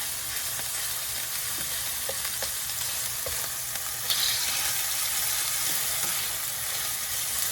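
Shrimp and garlic fry in a pan with a steady, bright sizzling hiss that swells slightly partway through, with a few faint clicks of stirring close by.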